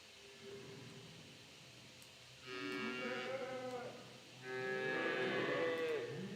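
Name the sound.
cows mooing in a video game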